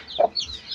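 A backyard chicken gives a short, close cluck or two, brief and fairly loud against quiet rural surroundings, with no voices.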